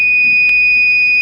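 Homemade eye-blink detector alarm built for drivers and students, a steady piercing high-pitched electronic beep tone that holds continuously and loudly throughout, with a faint click partway.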